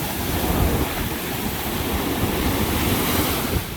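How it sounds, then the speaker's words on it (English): Ocean surf breaks and washes continuously on a Cape May beach, loud and close, with wind rumbling into the microphone and no voices heard. "Ooh, that's a good wave."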